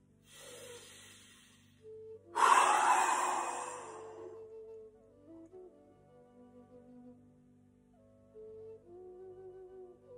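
Breathing exercise with rhythmic abdominal pumping: a loud sharp exhale hiss, then a run of short soft breath pulses over a steady low hum, close to the microphone.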